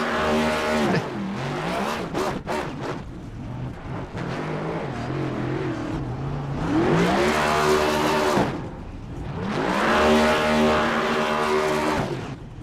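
Race cars at Daytona, including the number 88, roaring past in repeated loud passes with rising and falling engine pitch and tire noise, no talk.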